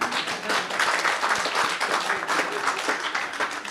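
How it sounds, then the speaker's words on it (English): Audience applause at a university inaugural lecture, a full room clapping continuously and fairly loudly for a few seconds, with individual claps audible close by. "I was hoping you're going to give us a round of applause."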